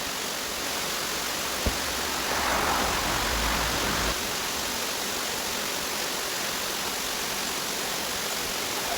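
Distant waterfall above a mountain water pipe line: a steady, even broadband rush that holds throughout, with one sharp knock near the start and a slightly louder swell partway through.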